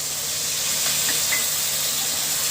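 Water hits a pan of frying garlic-cumin paste with salt, turmeric and red chili powder, giving a steady, even hiss of steam and sizzle with no talk.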